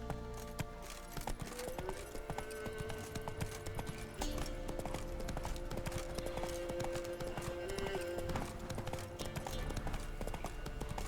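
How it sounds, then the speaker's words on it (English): In The Witcher 3, a horse gallops with steady rhythmic hoofbeats over a busy layer of game music and ambient sound, moderately loud throughout. "Run, Roach."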